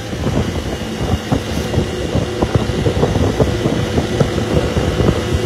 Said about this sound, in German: Ein türkischer Motorradfahrer.